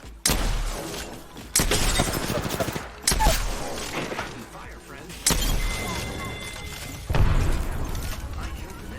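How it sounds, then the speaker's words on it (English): Sniper rifle fire in the Apex Legends video game: several loud, sharp cracks with booming tails at roughly one-to-two-second intervals, set among other gunfire and mechanical game noise, with voices talking over them. "I hear that sniper go off"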